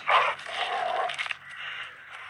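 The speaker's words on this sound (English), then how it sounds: "That's a horrifying noise. When your dog jumps and tears someone's throat out." A dog in the zombie game Into The Dead attacks a zombie, giving a loud snarling, yelping burst followed by rough, tearing growls and scuffling that fade into quieter whines.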